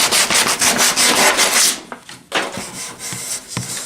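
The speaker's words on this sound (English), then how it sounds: "We gotta get this all sanded up real nice here, so nobody hurts themselves when they're rolling on there." Sandpaper rubbed back and forth along a wooden hand rail in quick, rhythmic strokes, close and scratchy, then slower, uneven passes with short pauses between them.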